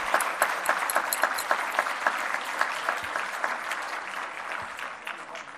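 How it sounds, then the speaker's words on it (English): A roomful of people at a civic awards toast breaks into sustained applause, dense clapping near and far that holds steady and thins slightly toward the end, with no one speaking. "Every person in the room, clap for somebody else as we clap for you."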